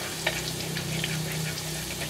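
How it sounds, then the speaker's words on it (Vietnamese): Green beans stir-frying in a hot pan in a home kitchen, a steady low sizzle with faint clinks of stirring throughout, fairly quiet and without talk. "Bắt lên xào đậu que."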